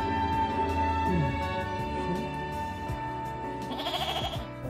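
A goat bleating in a film scene, a wavering cry rising near the end over a steady background of music and drones.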